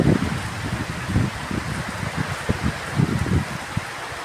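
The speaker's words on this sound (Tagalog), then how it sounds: "Lakas po ng ulan. Simula po ng 3 AM kaninang madaling araw hanggang ngayon po. Lakas po ng hangin." Heavy rain pours steadily amid gusting wind during a storm that has lasted since early morning, a dense, continuous wash with low rumbling surges and no voices.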